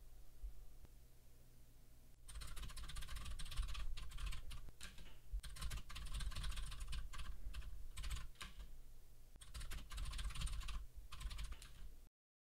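Rapid clicking of keys on a computer keyboard, typed in several bursts with short pauses between them, close and fairly quiet with no voices.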